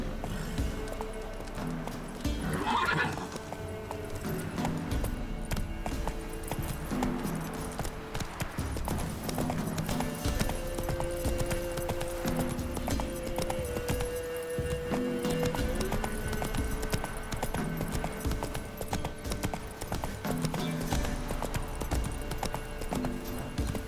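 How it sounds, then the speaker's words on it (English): A horse gallops in The Witcher 3: steady, rhythmic clip-clop hoofbeats carry on throughout, with a brief whinny near the start and faint ambient game sounds underneath. "Run, Roach"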